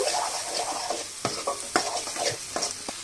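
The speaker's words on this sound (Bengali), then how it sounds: "আর একটু নেড়ে চেড়ে কষিয়ে নিলাম" Tomatoes sautéing with fish curry masala for a singi fish and potato curry, with a soft continuous sizzle broken by repeated sharp spoon scrapes and taps against the pan, close and without speech.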